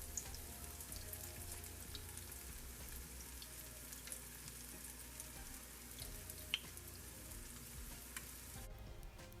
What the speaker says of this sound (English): So I'm frying these so that they can have some sort of texture to them.